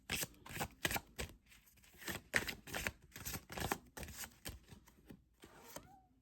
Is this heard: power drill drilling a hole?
no